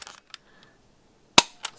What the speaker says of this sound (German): Das waren 5 Schuss.